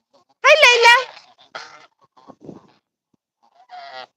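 Domestic geese, including Chinese and African breeds, honk close by in a loud burst of several calls, followed by a few shorter, quieter honks with pauses between them.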